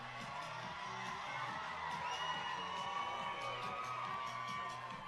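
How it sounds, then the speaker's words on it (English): A home soccer crowd of Northern Arizona Lumberjacks fans cheers and whoops after a set-piece goal, a steady roar of voices filling the stands with brief shouts rising above it. "Lumberjack crowd very hyped over that one"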